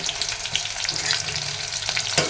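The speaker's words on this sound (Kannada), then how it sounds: "ಎಣ್ಣೆ ಎಣ್ಣೆಯಲ್ಲಿ ಚೆನ್ನಾಗಿ ಫ್ರೈ ಆಗಲಿ" Capsicum frying in hot oil for a Karnataka-style capsicum palya, a loud continuous sizzle with crackling pops and a few sharper spatters, heard up close with no talk.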